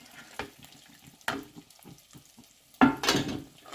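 Onion, garlic and green chillies sauté in a pan for a breadfruit gravy, with scattered spoon scrapes and short bursts of sizzling, and a louder hiss of frying near the end.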